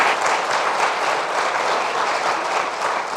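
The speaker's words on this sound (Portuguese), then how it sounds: "Vamos todos recebê-lo com uma salva de palmas, por favor." Audience applause welcoming a speaker at a bioanalytical chemistry workshop, a dense, steady wash of many hands clapping that fills the room evenly for several seconds without a break.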